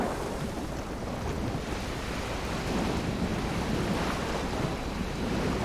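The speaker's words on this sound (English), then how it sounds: "even at this speed the boat will dive quite rapidly" A U-boat dives under the waves in the Silent Hunter 3 video game, with loud, continuous rushing surf and wind that swells slightly as the boat goes under.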